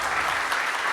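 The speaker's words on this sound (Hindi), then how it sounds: "तालियां" A short burst of steady audience clapping on a talk show set, dense and continuous for about a second with no voices over it.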